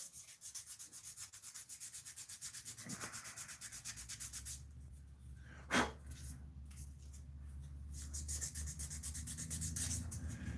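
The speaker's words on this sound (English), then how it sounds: "Sanding on the sword." Steady close-up sanding of a metal sword blade, a continuous abrasive rasp with a faint tool hum, broken by one brief sharp knock partway through.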